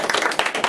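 An audience claps together at a business talk, a brief dense burst of many hands clapping at once.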